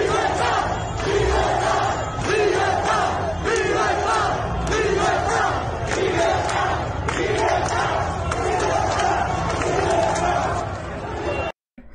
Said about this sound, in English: individuals literally chanting in Spanish, libertad, freedom